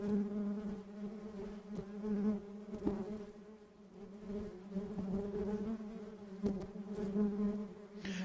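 Honeybees buzz inside the hive, a dense, steady drone of many wings humming together at low volume, continuous and close with slight swells in intensity.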